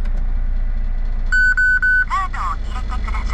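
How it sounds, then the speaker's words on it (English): A small kei car engine idles with a steady low rumble while a short run of electronic beeps and a few chirpy sounds ring out over it. "I started the car a couple seconds ago."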